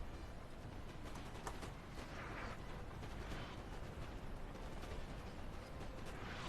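Napoleonic cannon artillery fire in a video game battle rumbles and pops as distant, overlapping booms within a dense, continuous roar.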